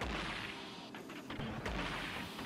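Charged rockets fire in the video game Gato Roboto, with several booming blasts over a dense, noisy game backdrop and sharp percussive hits in the middle.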